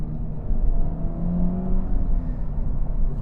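A 2023 Honda Civic Type R, front-wheel drive, pulls hard at full power with warm tires. Its engine makes a steady, droning roar from inside the cabin, holding the same loudness throughout with no talk.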